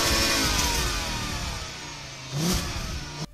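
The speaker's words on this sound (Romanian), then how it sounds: "sunetul acestui motor este unic și nu se mai fabrică aceste motoare" An old, no-longer-manufactured car engine revs loudly and steadily, with a rising surge of revs near the end before cutting off abruptly.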